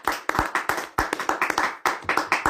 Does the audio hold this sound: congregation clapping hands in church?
yes